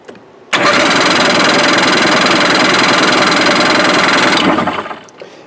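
The engine of a Sea-Doo GTX 657 jet ski cranks over loudly for about four seconds, a harsh continuous churning with no catch, then winds down to quiet.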